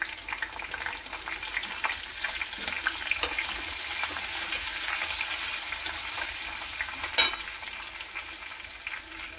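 Chopped onion frying with turmeric in a pan, a soft continuous sizzle with light stirring scrapes and one brief louder clatter near the end.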